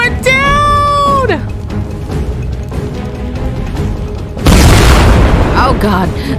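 A burning plane goes down in a Fortnite horror adventure map. A high, falling whine at the start gives way to a loud, sustained crash rumble and debris roar in the second half.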